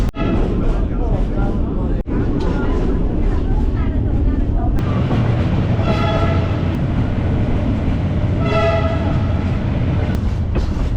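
A small, slow tourist train in China rumbles along steadily at about 20 to 30 km/h with a low, rolling drone, and a couple of tonal horn-like blasts ring out partway through.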